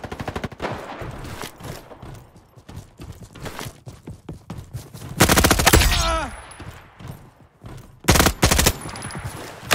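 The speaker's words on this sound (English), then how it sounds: "Treating the SMG like an assault rifle." Rapid SMG gunfire in a first-person video game, loud bursts of fast repeated shots in several strings with brief pauses, mixed with game effects and a dense pounding rhythm.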